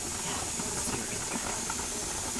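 A pressure canner vents steam while beef broth is being canned, giving a steady, close broadband hiss that runs unbroken from start to finish with no voices.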